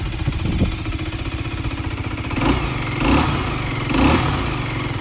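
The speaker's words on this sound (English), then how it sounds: "Let's give her a little rev." A 2018 Aprilia RS4 125 learner-legal motorcycle with an underbelly exhaust idles close by, its engine given three short blips of revs that swell and fall back to a steady idle.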